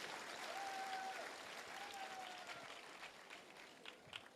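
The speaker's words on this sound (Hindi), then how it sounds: "एक जोरदार तालियां हमारे सभी गुरुजनों के लिए होनी चाहिए।" Audience applause for teachers at a speech event in India, a steady wash of clapping from a crowd with a few whistles rising over it, fading slightly toward the end.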